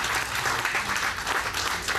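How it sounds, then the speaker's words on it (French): Sustained applause from an audience at a gathering reviewing a Martinique association's actions, a steady dense patter of many hands throughout with no talking. "Joe Desormeaux, je demandé un applaudissement, même s'il n'est pas là"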